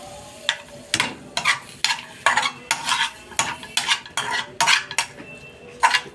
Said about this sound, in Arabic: بصوا انا قلبتها عشان تاخد بقيه السمنه كلها.